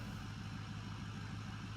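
Diesel pickup engine idling in Farming Simulator 17, a steady low rumble holding even throughout with no talk over it.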